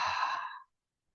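Deep open-mouthed exhale during a stretch yoga session, a single close, breathy sigh lasting about half a second before falling to silence.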